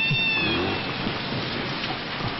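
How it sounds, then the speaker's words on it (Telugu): Steady rainfall hisses evenly and softly throughout, with a brief higher cry near the start and no speech. "వర్షం వస్తుంది కదా"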